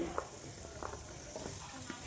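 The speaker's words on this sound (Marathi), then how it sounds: "याच्यामध्ये मी आता थोडंसं तेल टाकून आपले जे कांदे आहेत ते मी इथं भाजून घेते" Steady low sizzle of onions frying in oil, with a few soft scrapes of a spoon against the pan; no voices.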